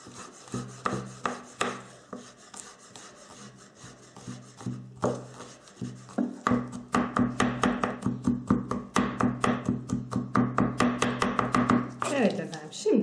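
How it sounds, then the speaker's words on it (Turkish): A knife chops peeled garlic rapidly on a board, dense rhythmic strikes speeding up into a steady fast patter, close and crisp, with brief pauses between bursts. "Son olarak da soyduğumuz sarımsaklarımızı kıyıyoruz."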